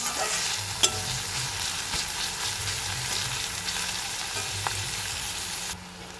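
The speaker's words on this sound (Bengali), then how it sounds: "পেঁয়াজটা একটু ভাজা ভাজা করে নেবো" Chopped onion sizzling in oil in a wok while being stirred, a continuous close hiss with soft scraping strokes throughout and a quieter tail at the very end, no talk.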